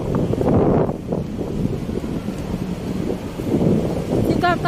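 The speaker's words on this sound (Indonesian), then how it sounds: "itu ada angin taifun, angin topan yang melanda Hong Kong" Typhoon wind sweeps through Hong Kong as a continuous, loud, gusting roar with heavy buffeting on the microphone, swelling and easing throughout.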